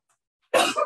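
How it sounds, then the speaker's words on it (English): A single harsh, loud cough bursts out close by after a moment of near silence, with a second push trailing off near the end, during an indoor lecture on Irish rock art. "Excuse me, I'm going to have to cough."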